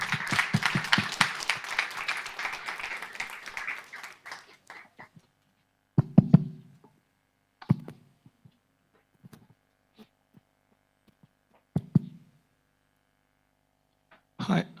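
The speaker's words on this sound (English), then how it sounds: "A round of applause." Audience applause at a startup pitch event: a dense burst of clapping for about four seconds fades out, leaving near-silence broken by a few scattered thumps and knocks.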